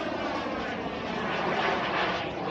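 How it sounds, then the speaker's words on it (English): A big RC model turbine jet airplane passes overhead at a flying field, a loud, continuous broadband roar that swells slightly midway, with no talk. "This is a big, massive turbine jet."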